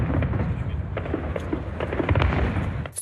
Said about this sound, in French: Ce feu d'artifice du 14 juillet a conquis ses spectateurs.